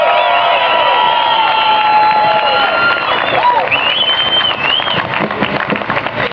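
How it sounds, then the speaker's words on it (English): Outdoor rally crowd applauding and cheering, dense clapping with whoops and tonal calls or whistles, loud and close, sustained then slowly thinning. "Please give them a round of applause."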